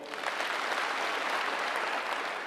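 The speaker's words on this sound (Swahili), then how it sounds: "pigieni yeye makofi" Steady audience applause at a public address in Kenya, dense and continuous clapping from a crowd with no break, moderately loud throughout.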